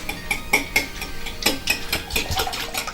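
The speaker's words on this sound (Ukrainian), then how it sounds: "Для цього ми, ми збиваємо яйця." Eggs are whisked in a bowl for Spaska zatirka, giving quick, irregular metallic clinks and taps of the whisk or forks against the dish over a few seconds.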